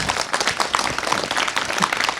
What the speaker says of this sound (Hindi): जोरदार तालियां पहले तो।